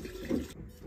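Pure 95% spirit poured into a jar of rhubarb for homemade liqueur, a short close liquid splash and gurgle lasting under a second.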